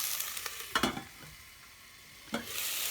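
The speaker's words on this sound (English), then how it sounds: "my next step is to add in the leek. And just give it a mix around with the onion." Chopped leek and onion sizzle steadily in a soup pot, with a few sharp scraping clatters as a spoon stirs them around.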